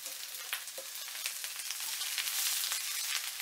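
Chicken with onion, carrot, Chinese cabbage and mushrooms stir-frying in a pan, a steady bright sizzle with scattered pops and crackles that swells slightly toward the end, heard alone with no talking.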